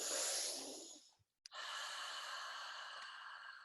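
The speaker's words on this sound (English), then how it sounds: "I encourage you to breathe so deep, full, deep belly breaths." Slow, deep belly breathing during a gentle yoga session, heard as a long, close, airy exhale, a short pause of silence, then a soft sniff and another sustained breath, with no talking.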